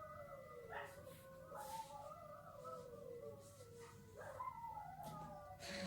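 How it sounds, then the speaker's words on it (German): Several dogs howling together in long wavering tones, with occasional yips and barks mixed in, fairly close. "jetzt hören wir das Konzert von meinen Hunden"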